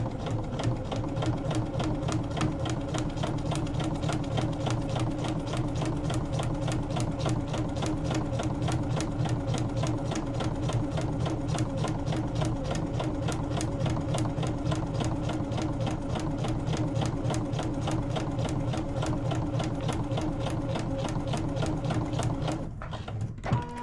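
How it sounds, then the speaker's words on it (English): A sewing machine stitches a foundation paper pieced star quilt block, running in a fast, even, continuous rhythm close up for over twenty seconds before stopping at the end. "drop my foot, and sew along this line"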